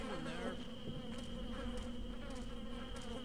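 A swarm of bees buzzes steadily in the stealth video game Thief 2, a dense continuous drone filling the whole stretch with no speech.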